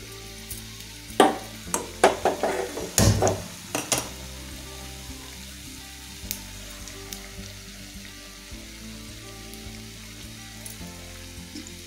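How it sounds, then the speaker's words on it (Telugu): Punugulu batter frying in oil on low flame, a soft steady sizzle with a few louder bursts and stirring clatters early on, then settling into a quiet background fizz. "సిమ్లో పెట్టుకొని వేయించుకోవాలి."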